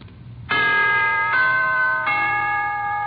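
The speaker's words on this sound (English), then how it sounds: "here is a holiday wish from the NBC Chimes" The NBC chimes ring out in a holiday broadcast: three clear, bell-like tones struck in succession, each sustaining and overlapping, loud and alone.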